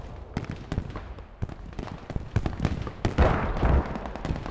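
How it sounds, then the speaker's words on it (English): Rapid cracking bursts of video game autocannon fire from a scout car, loud and sharp, some shots overlapping in quick volleys against a noisy battle background. "Hear an auto cannon firing over here."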